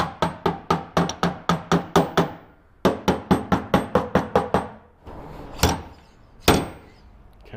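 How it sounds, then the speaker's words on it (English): A metal hammer taps crowns down on car body sheet metal while a slide hammer holds tension on the panel. The hits come in quick, sharp, ringing bursts, then a few slower, heavier knocks follow. "I'm putting tension on this slide hammer and I'm going to tap down these crowns"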